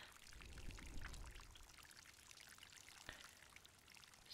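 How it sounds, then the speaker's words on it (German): Plants are watered in the video game Alchemy Garden: a faint, soft pour of water splashing and trickling steadily for a few seconds, heard alone. "Jetzt gießen wir erstmal."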